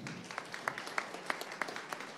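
Scattered audience applause at a startup pitch event on stage, thin and sparse with individual claps spaced through a quiet room, fairly faint.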